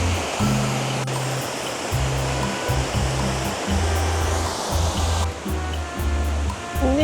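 A waterfall near Nagoya roars as a constant, loud broadband rush of falling water, heard close and unbroken, with intermittent low rumbling underneath.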